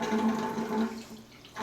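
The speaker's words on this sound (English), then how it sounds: "The noise that you hear is actually just the drain just kind of siphoning." An open drain on a water-softening system gurgles and siphons water out with a steady rushing, slurping flow that thins and fades near the end, close by with no talk.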